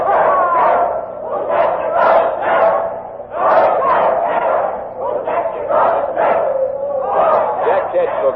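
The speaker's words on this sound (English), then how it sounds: "And now the crowd is chanting a doggerel." Crowd at a hanging in an old radio drama chants a rhythmic doggerel in unison, loud and continuous voices rising and falling in phrases throughout.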